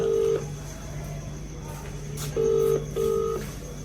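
A telephone number is dialled: three separate dial tones, one at the start and two close together near the end, sound over a steady low hum, with a faint voice murmuring between them.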